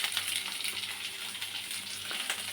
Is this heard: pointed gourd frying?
yes